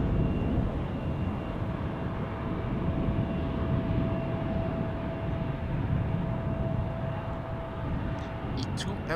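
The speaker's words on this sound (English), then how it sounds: "E2 Embraer." An Embraer E2 airliner at Amsterdam Schiphol Airport produces a loud, steady engine roar with a faint whining tone running through it, filling the whole stretch without pause.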